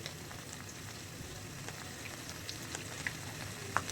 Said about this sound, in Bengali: এখন তো হালকা একটু ভাজি করে নেব